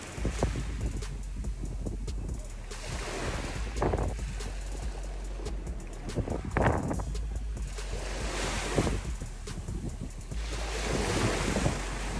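Ocean waves on Heera Beach, a continuous roar of surf with strong wind buffeting the microphone and periodic swells breaking, no voices.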